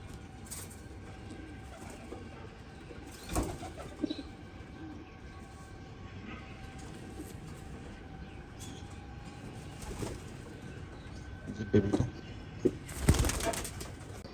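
Pigeons in a fancier's loft, including a white gold fighter pigeon, give faint soft coos amid low background noise, with a few brief wing flaps and rustles near the end.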